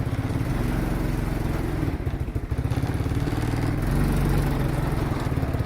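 A cold 2000 Arctic Cat 300 4x4 ATV engine runs steadily and loudly up close, a continuous low mechanical drone with clattery pulsing and a slight rise in revs midway, with no talk over it.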